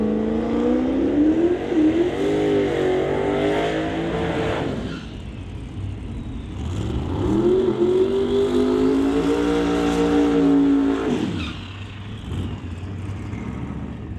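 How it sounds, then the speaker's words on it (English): A twin-turbo 1970 Nova drag car at a racetrack revs hard in rising and falling engine sweeps, loud and fairly close, with a short dip between throttle bursts. "Jason Gagnon, the runner out of Kelowna in that 1970 Nova with the twin turbos"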